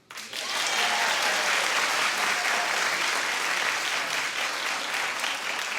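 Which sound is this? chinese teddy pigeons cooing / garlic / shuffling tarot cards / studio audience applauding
studio audience applauding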